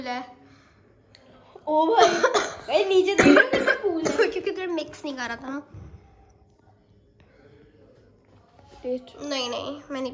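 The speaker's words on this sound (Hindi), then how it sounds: "वैसे इतनी खांसी हो रही है।" A woman coughs in loud, wet bursts amid talk, a cluster of hacking coughs in the first half followed by quieter speech, all close and indoors.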